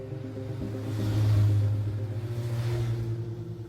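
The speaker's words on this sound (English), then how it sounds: "he squeezed the throttle and felt his snowmobile kick into high speed" A snowmobile engine revs up into high speed, a steady low rumble that swells louder toward the middle and then holds a throbbing drone, with no one talking.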